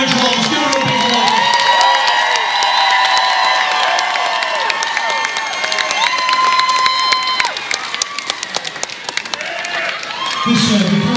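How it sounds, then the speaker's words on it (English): A concert crowd at a rock show cheers, whoops and claps loudly after a drum solo, high screams over a roar that dips briefly before surging again. "How about a huge round of applause?"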